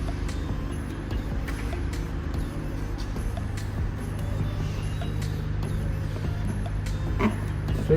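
Screws are driven by hand with an Allen key through parts of a 135 cm multi-level cat tree. Faint, intermittent mechanical creaks and ticks sit over a steady low background hum.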